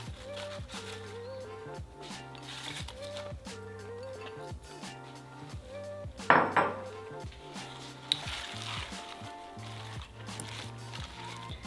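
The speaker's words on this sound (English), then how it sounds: "You're just gonna slowly kind of stir it in until they all kind of wither and melt into it." Spinach is stirred into orzo pasta in a pan over low heat, soft repeated scraping and clinking of a utensil against the pan, with one louder clatter midway and a faint hum beneath.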